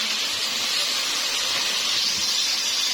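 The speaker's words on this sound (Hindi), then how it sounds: "इनको भी अब 1-2 मिनट और जरा भूनेंगे, लाइट सा ब्राउन कर लेंगे" Eggplant pieces frying in a pan for aloo baingan sabzi, giving a loud, steady, continuous hissing sizzle with no pauses or talk.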